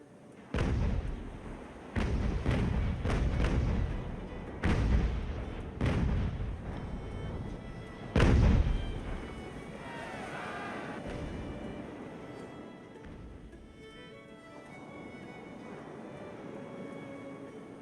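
Warship cannons fire a broadside in the naval game Ultimate Admiral Age of Sail, with about eight heavy booming shots in an uneven rolling sequence, loud and close, followed by rumbling ambience and distant crackle.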